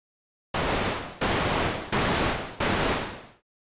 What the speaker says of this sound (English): Try playing a synth noise oscillator up and down the keyboard